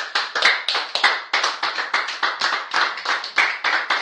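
A church congregation claps together in a steady, brisk rhythm to acclaim the Lord, loud and close, with no speech over it.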